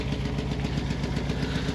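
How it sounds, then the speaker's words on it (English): A Volkswagen T2 bay window van's air-cooled engine idles with a rattly, lumpy beat, close and fairly loud, its rapid uneven pulses steady throughout with no talking. "A rattly engine."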